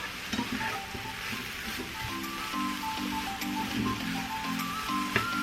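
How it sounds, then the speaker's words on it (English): Salted eggplant pieces sizzle steadily in a pan for keto refried beans, with repeated scraping stirs and soft clatter from a utensil, close up and with no talking. "There's parts that are already kind of starting to brown."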